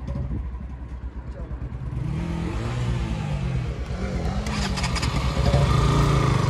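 Yamaha R15 and KTM RC200 sport motorcycles setting off, engines idling then rising in pitch as they pull away, loud and close with some talk mixed in.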